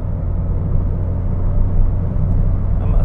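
Ford Fiesta ST accelerating on a highway: a steady, heavy low engine and road rumble holds without a break, with no voices over it.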